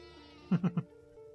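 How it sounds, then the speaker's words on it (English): A sheep in the video game Windborne bleats in three quick, clipped pulses, close and clear over a soft ambient backdrop. "There's some more of those cute little sheeps."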